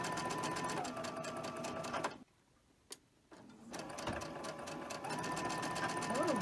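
A sewing machine stitching quilt pieces runs in a fast, even whir with rhythmic ticking, stops for about a second and a half with a single click, then starts again and runs steadily.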